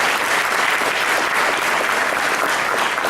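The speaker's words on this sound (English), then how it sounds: "another round of applause for eBay." Audience applause fills an economic summit hall held by a Hispanic chamber of commerce, a steady, dense clapping that runs loud and unbroken for the whole stretch with no voices over it.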